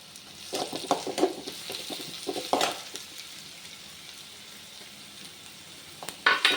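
Crushed ginger and garlic fry with onions in a pan, soft sizzling broken by several spoon scrapes and stirring knocks early on, a quieter simmering stretch, then a sharper burst of sizzle at the end.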